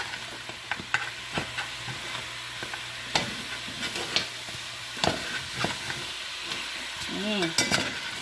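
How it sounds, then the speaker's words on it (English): Jamaican-style oxtail being stirred in a pot, a spoon scraping and knocking in irregular strokes over a soft steady simmering hiss, close and fairly quiet. "And I'm going to stir it."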